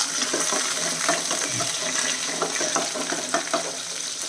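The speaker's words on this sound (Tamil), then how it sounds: "வதக்கட்டும் பாருங்க நம்ம போட்ட பூண்டு வெங்காயத்தோட நிறமாக நல்லா வதங்கிடுச்சு" Garlic and small shallots sautéing in a pan for a Kerala clove-bean theeyal, giving a steady close sizzle with scattered crackles and light stirring throughout.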